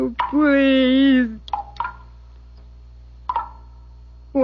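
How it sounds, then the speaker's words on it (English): Water dripping off a big leaf as an old-time radio drama sound effect, a few distinct pitched plinks spaced apart, preceded by a long wavering tonal sound. "It's dripping off that big leaf."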